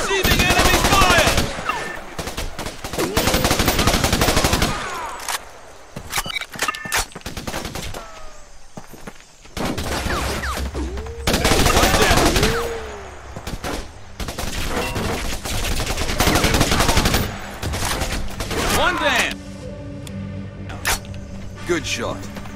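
Heavy machine-gun fire and overlapping shots from the video game Raven Squad come in long, loud bursts separated by short lulls, while in-game voices speak over the combat.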